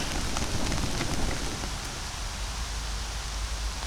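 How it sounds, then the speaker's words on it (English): Steady rain pattering on a homemade 3x3 tarp over a camp, a dense continuous hiss with scattered drop impacts, fairly loud and unbroken, with no talk. "and it's raining."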